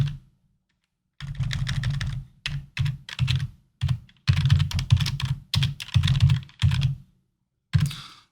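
Computer keys clatter in short, quick bursts separated by brief pauses as a name is typed in, ending with a final isolated press, close and clear with no talk.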